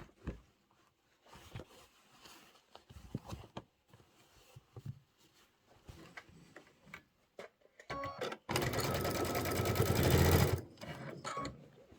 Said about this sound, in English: We are going to sew our outer borders on.